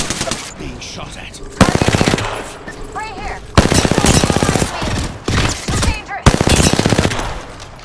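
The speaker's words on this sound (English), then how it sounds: "Being shot at." Automatic gunfire in Apex Legends on the Storm Point map: several loud, rapid bursts separated by short pauses, close and punchy, with faint voices in between.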